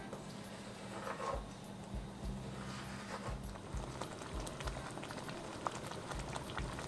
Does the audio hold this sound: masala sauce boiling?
yes